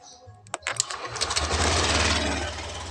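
A Honda Beat ESP scooter engine cranks with a few sharp clicks and sputters, then catches and settles into a steady, close, buzzing idle that runs to the end.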